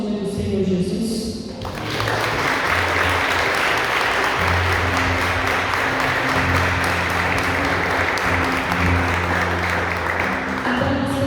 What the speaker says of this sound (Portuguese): eu gostaria que você aplaudisse o nome do Senhor Jesus